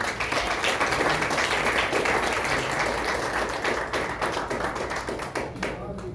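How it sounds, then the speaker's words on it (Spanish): Church congregation applauding, a loud, dense burst of many hands clapping that holds steady, then thins and fades toward the end, with some voices mixed in. "Denle un aplauso al Señor."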